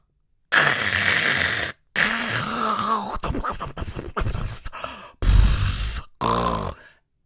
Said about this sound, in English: my mom snoring. My mom has sleep apnea